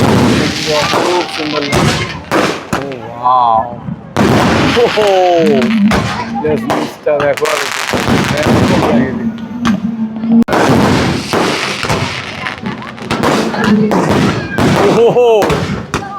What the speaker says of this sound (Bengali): শুরু হয়ে গেল তোমার আতসবাজি প্রদর্শন